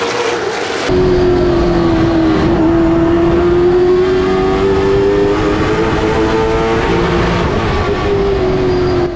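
A race car engine at the start of a race at Hickory Motor Speedway. It holds one loud, close, continuous whine with a slowly rising and wavering pitch, and a rumbling roar sits beneath it.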